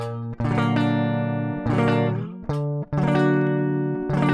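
An electric guitar strums a series of sustained rhythm chords, each ringing out loudly before the next change, played alone.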